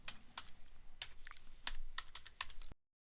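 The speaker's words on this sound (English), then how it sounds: "if I type in Wizhook here" Someone types on a computer keyboard in a quiet room, roughly nine distinct, close keystrokes in an uneven rhythm, after which the sound cuts to silence.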